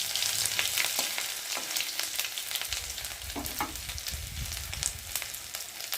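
Garlic paste frying in hot oil in a pan: a constant crackling sizzle fills the sound close up, punctuated by occasional light stirring scrapes, with no speech.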